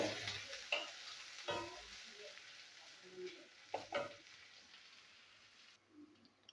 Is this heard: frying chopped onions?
yes